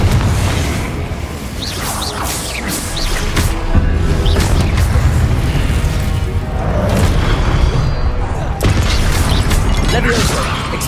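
Spell blasts and magical explosions from a Harry Potter video game on PS5, dense and continuous booms, whooshes and mechanical clatter layered together at loud level throughout, with game voices shouting spell names over the top.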